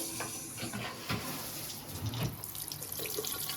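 Tap water runs over a plant to moisten it, a continuous close splashing and trickling stream with small surges and no talking.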